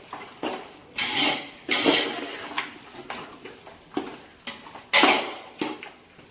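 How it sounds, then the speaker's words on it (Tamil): Chicken pieces and masala are stirred in a pot for chicken biryani: close, irregular metal scraping strokes come in short bursts, each rising and fading, with a few louder scrapes against the pot. "கறியும் மசாலாவும் நல்லா ஒன்றா இருக்கிறத நல்லா கிண்டி விடுவோம்"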